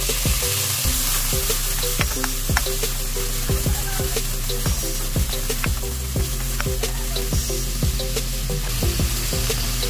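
Onion and tomato fry in a pan for a chicken sauce, hissing loudly and continuously while a utensil scrapes and stirs in a quick, regular rhythm of clicks.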